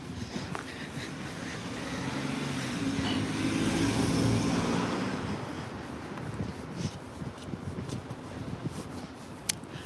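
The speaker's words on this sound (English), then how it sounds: "Considering that it's one way, I can kind of see the cars coming at me," A car drives along a one-way street in an outdoor city setting, its road noise swelling to a broad whoosh as it passes close by, then fading into the background traffic hum.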